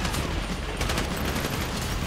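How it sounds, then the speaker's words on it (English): Dense, continuous gunfire from a Grand Theft Auto 5 firefight during the Paleto Score bank heist, a loud sustained fusillade of overlapping shots filling the whole stretch with no pause. "You hear that gunfire?"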